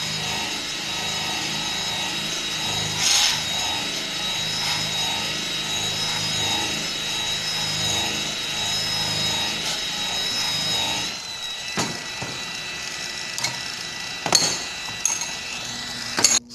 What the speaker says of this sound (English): you take mill finish stainless and put a grind and a polish on it